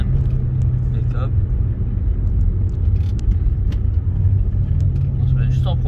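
A VW Golf 4 VR6 downshifting through the gears as it slows, a steady, loud low engine rumble inside the car with a person talking over it throughout.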